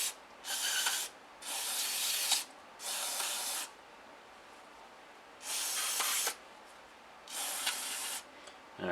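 Gun scrubber aerosol sprays into a handgun frame in five separate hissing bursts, each lasting roughly half a second to a second with short pauses between, close and crisp against a quiet background.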